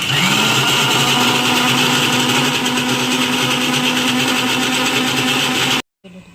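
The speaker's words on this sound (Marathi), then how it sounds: "त्याला मिक्सरला लावायचं, पेस्ट करायची." A mixer grinder blends chutney into a paste with a little water added, a loud steady high-pitched motor whine running close and continuous for about six seconds before cutting off abruptly.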